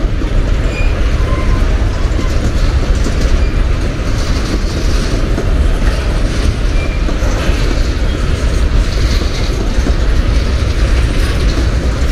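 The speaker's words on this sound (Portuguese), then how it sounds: "Segunda locomotiva tá vindo lá," A train hauled by Dash 9-BB locomotives in a Locotrol consist rumbles past steadily near Lagoa da Prata, with a loud, continuous rolling roar and faint clickety-clack of the cars for the whole stretch.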